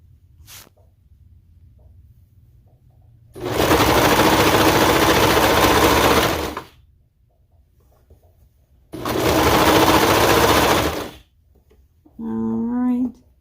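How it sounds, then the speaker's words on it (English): A serger sews a seam on a leotard flutter sleeve in two loud, steady whirring runs of about three and two seconds, separated by quiet pauses, with a brief voice at the end. "I'm paying close attention to make sure that I'm serging off the seam that we did on this flutter"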